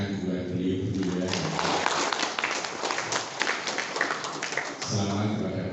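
An indoor education seminar audience applauds two guests with dense, sustained clapping that lasts several seconds, framed by a speaker's voice before and after.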